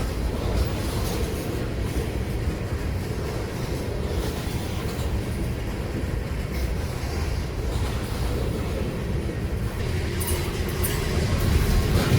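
A freight train hauling Burlington Northern hopper cars rolls steadily past in a continuous loud rumble with rattling wheels, close by and heard alone for the whole stretch.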